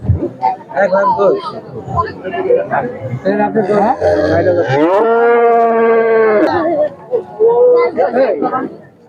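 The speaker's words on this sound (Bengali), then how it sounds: "অনেক গরু উঠেছে ভিওয়ার্স এই হাটে" Cattle at a busy cattle market moo loudly and close, one long drawn-out low call rising and holding, amid a steady babble of people talking nearby.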